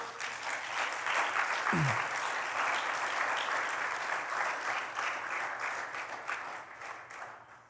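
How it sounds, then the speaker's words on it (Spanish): A church congregation claps together in sustained applause, a steady, moderately distant wash of many hands with a brief low thump partway through. "Le damos un aplauso al Señor"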